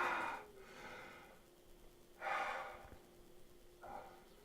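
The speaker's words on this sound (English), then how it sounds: "and then heavy breathing" Heavy breathing as a sound effect in a tabletop role-playing session, three slow, breathy exhalations with quiet pauses between them over a faint steady hum.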